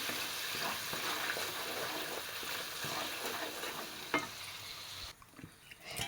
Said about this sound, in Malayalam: ആ ബട്ടർ മുഴുക്ക് മെൽറ്റായി വന്നിട്ടുണ്ട് ഒന്ന് ഇളക്കി കൊടുക്കണം